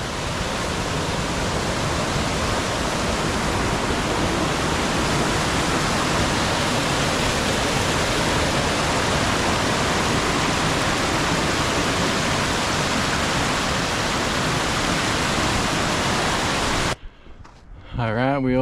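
A seasonal mountain creek near North Fork Lone Pine Creek, by the Whitney Portal trail, rushes loudly and steadily as a dense, close wash of water, then cuts off abruptly near the end.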